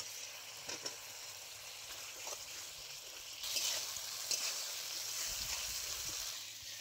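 Fried potatoes added to a spice masala with amchur sizzle softly in hot oil, a continuous faint frying hiss with occasional stirring scrapes and a brief louder burst midway.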